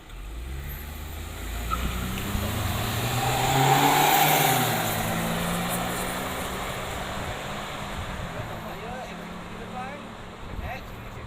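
Three cars including a Proton X50 with a 1.5-litre turbo engine and a Honda with a 1.8-litre four-cylinder accelerating from a standing start, engines droning and swelling to a peak before easing off as they pull away together.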